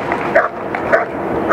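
A Schutzhund protection dog at a world championship trial barks intensely at a decoy, loud close repetitive barks in quick rhythm, several sharp yelps within a second and a half.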